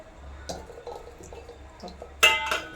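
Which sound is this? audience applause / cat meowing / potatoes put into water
potatoes put into water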